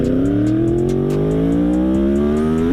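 A Yamaha R1 sport motorcycle engine revs hard and climbs steadily in pitch on a track, loud and close, a single sustained rising whine with no talk.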